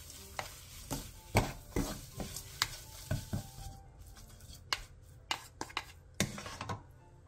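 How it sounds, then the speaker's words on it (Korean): Seaweed stems are tossed in a pan with perilla oil, sesame seeds and green onion, making soft scraping stirs and light taps of a utensil, with faint sizzling between the strokes. "마지막으로 들기름 1스푼과 통깨, 대파를 넣고 가볍게 뒤적여 마무리해주세요"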